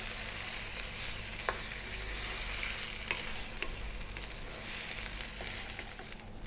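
Baked beans mixture simmering in a pan, giving a steady soft sizzle and bubbling with faint occasional stirring clicks, continuous and close with no talking.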